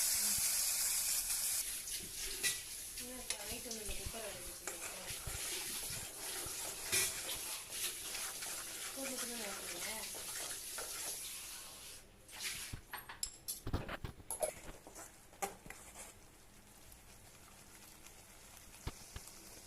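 A soft, steady hiss and bubbling of garlic chutney simmering in a pan, with a few clinks and scrapes of stirring toward the end.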